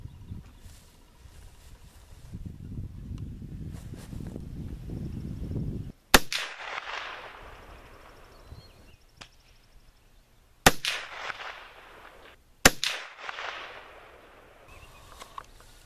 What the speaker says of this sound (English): We'll put some rounds down range.